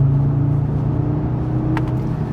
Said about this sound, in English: let that 5-cylinder sing